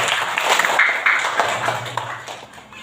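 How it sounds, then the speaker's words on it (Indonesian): A classroom of children clapping for a classmate, a dense burst of quick hand claps that tapers off over a few seconds. "Tepuk tangan buat Raffi."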